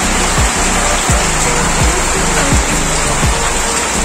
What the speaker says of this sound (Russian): Ашонская река.